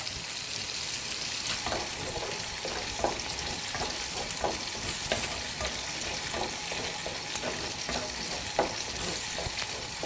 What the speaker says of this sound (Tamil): இது இன்னும் கொஞ்சம் எண்ணெய் ஊற்றி ஃப்ரை பண்ணிக்கலாங்க